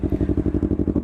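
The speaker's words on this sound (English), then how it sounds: "that's the exhaust tone" A 2015 Yamaha R3 motorcycle idles with the exhaust baffle removed and no block-off plates, giving a loud, close, rhythmic burbling pulse of about ten even throbs per second, with no voices.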